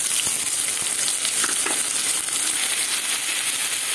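Small pieces of salted chicken frying in a pan, a steady loud sizzle crackling throughout with a few sharper pops and spatters.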